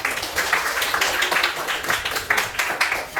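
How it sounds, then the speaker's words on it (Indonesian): A group of teachers and participants at a school coaching session clap their hands together in a brisk, close, steady burst of applause with no talking. "Kita tepuk tangan untuk diri kita sendiri"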